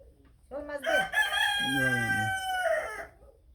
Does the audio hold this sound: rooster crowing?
yes